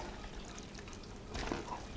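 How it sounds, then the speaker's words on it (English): Pasta being poured into a pan of sauce, a soft, close sliding wet rush that swells briefly near the end over quiet kitchen background. "pour the rest of the pasta in there"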